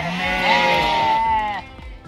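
Sheep packed into a tiny field give a single loud, drawn-out bleat close by, lasting over a second before fading into quieter background sounds.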